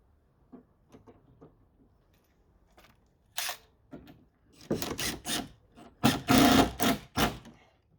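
Screws driven into timber to fix a gate plate between brick walls, with faint clicks early on and then several loud bursts of power-driver whirring, short and close.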